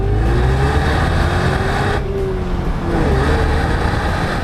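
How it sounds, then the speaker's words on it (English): Inside a 2015 Ford Mustang EcoBoost with a four-cylinder engine and a manual transmission, artificially enhanced engine sound drones loudly and steadily, its pitch rising and then dipping briefly as the car accelerates and shifts. "getting a little bit different sound out of your engine"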